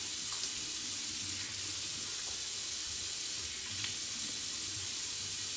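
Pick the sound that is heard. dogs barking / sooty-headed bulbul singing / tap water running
tap water running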